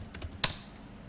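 Keystrokes on a computer keyboard during a Laravel 5.4 authentication coding session: a few soft taps and then one sharper, louder clack, close by, with no talk over them.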